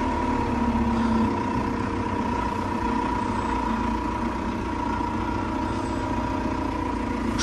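A TR5110 tractor engine runs steadily on a cold early morning during field preparation, a loud continuous idling drone with a constant hum and no talking throughout.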